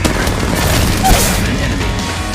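Gunfire in the mobile shooter Apex Legends Mobile, a dense loud rattle of rapid shots running straight through the whole moment.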